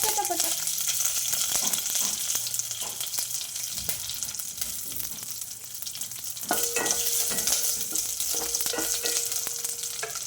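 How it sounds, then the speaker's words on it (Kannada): Crushed garlic and curry leaves crackle and spit in hot oil, a steady sizzle with occasional stirring taps and scrapes against the pan. "ಬೆಳ್ಳುಳ್ಳಿ, ಕರಿಬೇವು ಸೊಪ್ಪು, ಚಟಪಟ"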